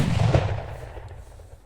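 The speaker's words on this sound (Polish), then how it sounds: "Jest to bardzo mocna petarda, także muszę mocno ją wyrzucić." A powerful Achtung 5G firecracker goes off outdoors with one loud, heavy bang that quickly fades into a rumbling echo.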